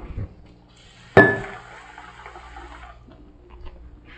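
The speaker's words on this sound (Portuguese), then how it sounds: "Bota lá debaixo da torneira e cobre com água." Kitchen tap water splashes into a container of nuts being covered for soaking, a sudden gush starting partway through, then a steady fill with a light clink.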